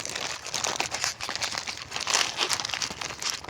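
A plastic or paper mango fruit-protection bag, the kind with a flexible wire in its mouth, is handled and crinkled up close in a steady stream of rustling crackles with no talking.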